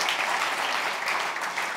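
Applause from a church congregation during a bilingual Spanish-English service, a steady dense patter of clapping held at even loudness for the whole short stretch, with no break or lull.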